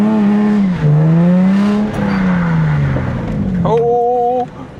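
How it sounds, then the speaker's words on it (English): A car drifts around a corner at a night drift event, its engine roaring loud and close with the pitch sliding up and down, then jumping to a sharp high rev just before cutting off. "Are you going to drift the corner?"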